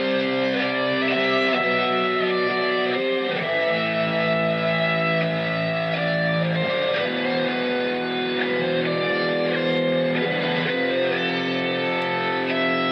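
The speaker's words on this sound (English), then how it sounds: "Listen also to the distorted one." Distorted electric guitar chords, an isolated stem-separated track with solo and rhythm parts, ring out thick and loud, sustained and saturated with effects, playing continuously throughout.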